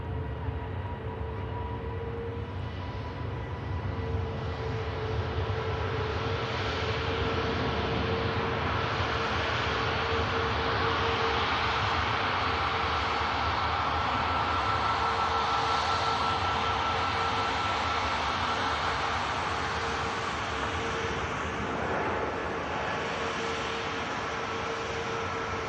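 An Airbus Neo jet airliner at Manchester Airport roars past loud and close, a broad sustained engine rush with a steady whine that swells mid-pass and holds for the full stretch.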